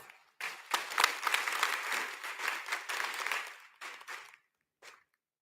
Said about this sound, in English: Let's give our young students a round of applause